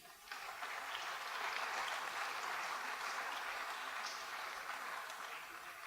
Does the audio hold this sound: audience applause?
yes